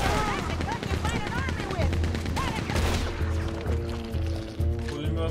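Bursts of machine gun fire, apparently in a shooter game, rattle in rapid repeated volleys over a dense backdrop of shots and clatter, loud and close, with voices mixed underneath.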